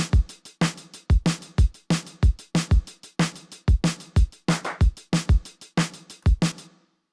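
A drum kit beat built around sharp, down-tuned claps layered over a punchy kick, repeating in a tight, steady rhythm of close, loud hits from a produced track.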